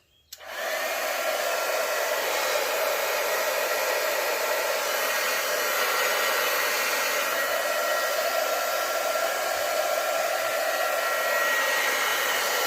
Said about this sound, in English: this is your heat tool. So I'm going to let it get hot first.